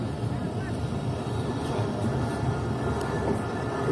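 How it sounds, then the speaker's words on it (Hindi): A passenger train pulls out of Chaman railway station, with a steady low rumble of wheels and coach noise running loud and unbroken throughout, while voices talk over it. "और फाइनली अब ट्रेन निकल गई है"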